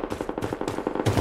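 Gunfire in the shooter game Blood Strike, a short run of rapid automatic shots with a heavier burst near the end, fairly quiet and without talk.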